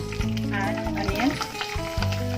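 Chopped onion sizzles and fries in hot oil with bay leaf, cloves, cinnamon and cumin as keema curry begins, stirred with a few scraping strokes; steady close sizzle with a speaking voice over it.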